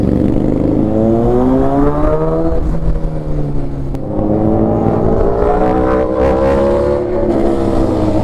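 An engine with a dual clutch transmission revs loud and close, its pitch climbing and dropping in repeated sweeps, with steady road noise and no talk.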